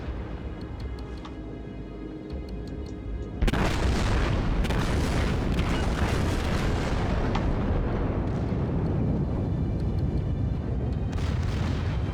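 Warship naval guns firing in World of Warships during a ranked battle, a loud sudden boom followed by sustained rumbling blasts and explosions, with further heavy salvos bursting out near the end.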